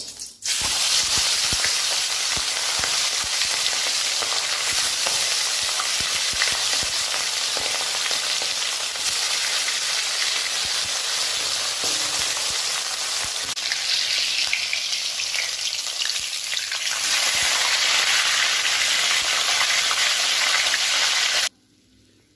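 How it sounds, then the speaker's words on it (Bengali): Fish heads fry in hot mustard oil with a loud, dense sizzle that stays steady and close for about twenty seconds, then stops abruptly. "তেলটা আমার গরম হয়ে গেছে, এবার আমি এর মধ্যে মাছের মাথাগুলো দিয়ে দেবো"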